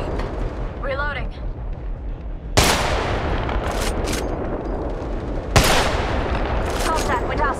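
Gunfire in the mobile shooter Apex Legends Mobile at Kings Canyon: two loud, close bursts of rapid shots with rumbling blasts, over steady game noise and brief chirping effects.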